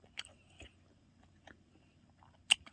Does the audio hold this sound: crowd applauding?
no